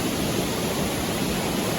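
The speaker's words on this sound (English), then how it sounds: "Welcome to Campbell Creek." Campbell Creek rushes steadily near a trail bridge on a mountain hike, a continuous loud broadband wash of flowing water with no pauses.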